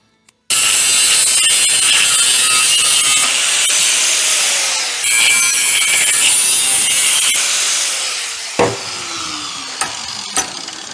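A hand saw cuts through an exhaust pipe clamped in a vise, with a loud, steady, rapid back-and-forth rasp up close that slows and ends with a few clanks.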